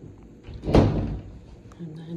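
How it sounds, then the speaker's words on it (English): A double closet door in a house bedroom closing with one solid thump, followed by quiet room sound. "It's a double door."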